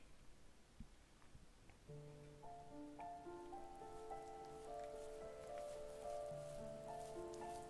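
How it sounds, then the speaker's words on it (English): Steady rain falling in the video game The First Tree, a soft continuous patter on the ground in a valley, heard alone beneath gentle melodic music notes. "The rain cascaded onto the Jade Valley where the entrance to the tree was."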